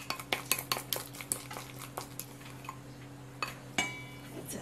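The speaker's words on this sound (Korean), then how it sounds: "자, 이렇게 잘 섞어 넣겠습니다." A spoon clinks and scrapes against a bowl while seasoning paste for a chilled abalone raw fish soup is stirred, giving a series of sharp, close taps that thin out into softer scraping with a faint steady hum underneath.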